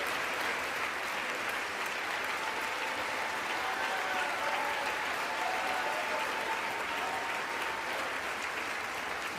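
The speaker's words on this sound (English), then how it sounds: "now everyone's around them just clapping for them" Sustained audience applause at the State of the Union address in the House chamber, a dense, even wash of clapping that holds steady throughout without voices.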